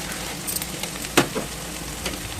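Onions and green chillies frying in a pan for a sesame dal curry, a steady soft sizzle with a few brief stirring clinks and one sharper crackle, no voices.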